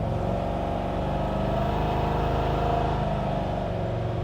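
A 1956 Chevrolet 3100 truck with a 496 big block V8 idles and revs in a steady, loud, deep rumble that holds its throaty drone throughout without any talk.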